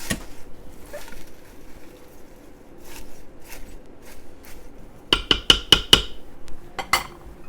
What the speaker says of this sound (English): See if I can stir that a little bit better.